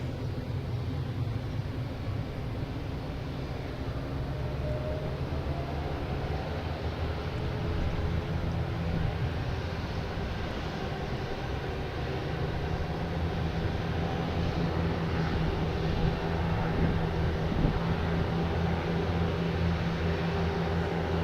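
A Delta airliner at Boston Logan Airport rumbles steadily with a low, sustained jet drone, continuous and moderately loud, with no speech over it.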